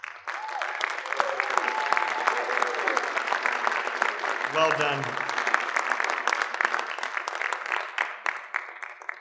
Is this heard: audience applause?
yes